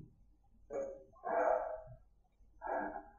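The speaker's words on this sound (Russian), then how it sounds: "Собака меня спалила." A dog in Skyrim barks three times, moderately loud and spaced unevenly, each bark a short rough burst against a quiet game background.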